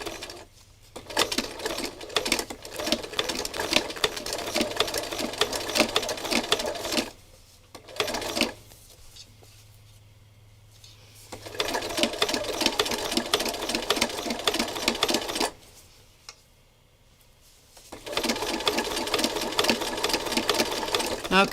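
Sewing machine stitching trim onto fabric, close and steady: long runs of fast rhythmic needle clatter that stop twice for several seconds, with faint low hum in the gaps.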